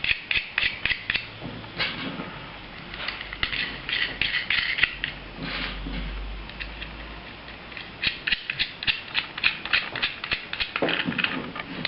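Small nuts being fastened by hand onto 4mm bolts of a worm gear assembly: a long run of quick, light metallic clicks and ratcheting scrapes in irregular bursts, close up and quiet.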